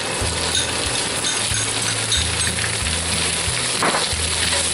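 Mushrooms frying in a pan with browned top round steak and onions, a loud, dense sizzle running throughout, with rhythmic clicking and scraping from stirring underneath.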